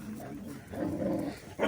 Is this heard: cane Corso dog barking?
yes